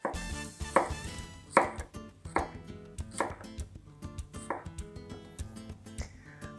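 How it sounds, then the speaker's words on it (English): A Mercer chef's knife chops fresh produce on a cutting board, giving sharp, close knocks at a steady, unhurried pace, roughly one every second. "This Mercer blade makes very short work of fresh produce."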